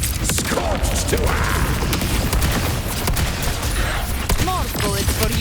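Gunfire in the Wuthering Waves video game, a dense continuous barrage of shots and booms with mechanical clatter, loud and unbroken, and a few brief game voice sounds mixed in.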